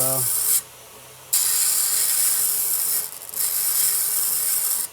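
A knife's serrated edge is ground down to reduce its height, producing a loud, steady abrasive hiss that stops briefly, starts again, then dips for a moment before continuing.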